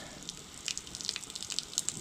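Water spills out of the vent of an RV's freshwater tank during filling, producing a faint, irregular trickle with crackly splashes and drips. It is heard alone, with no talking.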